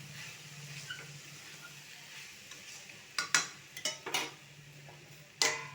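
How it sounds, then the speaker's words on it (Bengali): Pumpkin curry with spices is stirred in a pan over low flame: a soft sizzle runs throughout, and several sharp spoon scrapes and clinks against the pan come in a cluster and then once more near the end. "আবারও আমি নাড়িয়ে চালিয়ে নেব"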